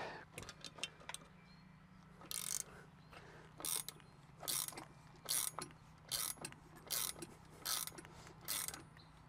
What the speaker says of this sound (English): Or you can just use a ratchet wrench,